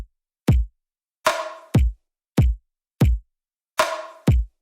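A bass drum and snare drum play a short, sparse beat pattern in a world-music rhythm cycle: deep kick hits with two bright snare strikes among them, steady and close, with no other sounds.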